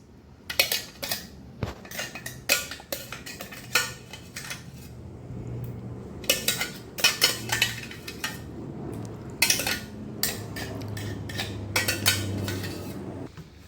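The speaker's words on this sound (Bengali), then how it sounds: "দইয়ের সাথে আমটা আমি ভালো করে মিশিয়ে নিচ্ছি" Spoon scraping and clinking against a bowl while mango juice is stirred into yogurt for a mango lassi, a run of sharp, close taps and scrapes in irregular bursts with no voices.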